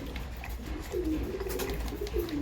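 Pigeons coo in a low, throaty run of repeated calls, close by and moderately loud, over a steady low background hum during baby pigeon hand feeding.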